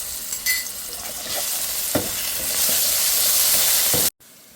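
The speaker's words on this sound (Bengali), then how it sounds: "কষিয়ে নিই।" Ginger and garlic paste sautés in hot oil for a prawn curry with potato, aubergine and green mango, a loud, dense close sizzle with a few spoon scrapes, cutting off abruptly near the end; no speech.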